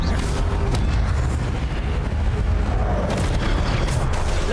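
A loud, rumbling whoosh of the Incendio fire spell in Hogwarts Legacy, with booming bursts rolling over continuous battle noise, close and sustained.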